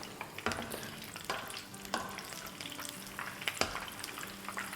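Slit green chillies frying in a pan, a soft steady sizzle with a few sharp stirring scrapes at intervals, fairly quiet and with no one speaking.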